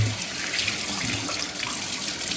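Water runs steadily from a brass swivel faucet extender into a kitchen sink, a continuous close, even splashing hiss with no pauses.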